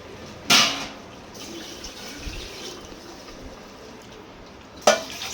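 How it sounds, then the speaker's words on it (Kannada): Water poured into a cooking pot for hotel-style mint rice, a quiet trickle with two short louder splashes near the start and end. "ಸ್ವಲ್ಪ ನೀರು ಹಾಕ್ಕೊಳ್ಳಿ, ಎಷ್ಟು ಬೇಕೋ ಅಷ್ಟು ನೀರು ಹಾಕ್ಕೊಳ್ಳೋಣ"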